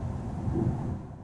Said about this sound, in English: I don't know if you can hear the wind howling outside.